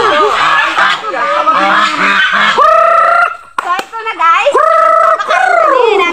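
Loud honking and squawking of chickens crowding close while being fed rice, repeated calls with a brief pause midway, with voices mixed in.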